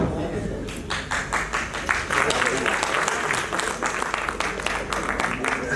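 Audience applause fills a hall during a memorial lecture series, a dense, steady patter of many hands clapping that runs the whole stretch, with voices mixed in underneath.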